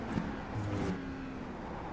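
A car engine hums and revs steadily in a driving video game, a continuous mid-level drone with a slight rise partway through and no other sounds over it.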